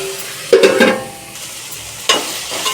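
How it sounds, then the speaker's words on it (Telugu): Egg prawn curry cooks in a pan: a soft background sizzle is punctuated by two brief bursts of spoon stirring and scraping against the metal. "బాగా వేగుతుందండి."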